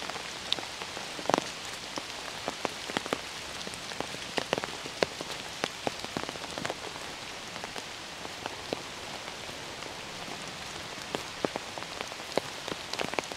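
Rain falls steadily in a forest, pattering in sharp irregular drops close by, likely striking an umbrella, over a constant soft hiss of wider rainfall, with no talking.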